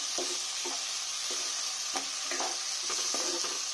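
Red lentils being stirred and fried in a pan for a red amaranth greens dish: a series of scraping stirring strokes, roughly one every half second, over a steady close sizzle.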